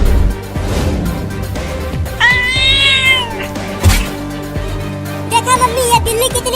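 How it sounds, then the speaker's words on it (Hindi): A cartoon cat meows loudly and lets out a drawn-out, wavering caterwaul near the middle, followed by shorter cries, over a busy background of scuffling and music. "ये बिल्ली कितनी ढीठ है"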